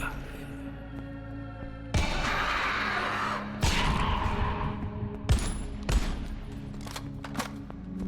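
Video game gunfire in El Paso Elsewhere as angels are shot down: three or four loud, sharp blasts, each trailing into a noisy rumbling wash, with smaller cracks and clatter between them and no talk.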